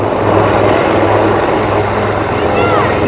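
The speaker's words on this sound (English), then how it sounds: "These indigenously designed and developed advanced light helicopter is twin-engine, multi-role, multi-mission, new generation helicopter" An Indian Navy twin-engine HAL Advanced Light Helicopter flies over the sea at a Navy Day display in Puri, its loud continuous rotor and turbine roar steady throughout, with a voice faintly present beneath.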